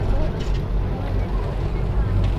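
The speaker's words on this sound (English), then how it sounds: "hopefully you can hear me above the sound of the engines" Engines of a whale watching boat off Palm Beach, a loud low rumbling drone running steadily under someone talking close to the microphone.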